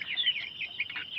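Chickens cluck in a farm coop, a soft run of high, quick clucks heard alone at moderate distance.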